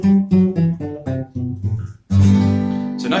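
Ascending major scale played on a single melodic instrument, about eight clear separate notes stepping upward, ending in a sustained louder chord; no talking.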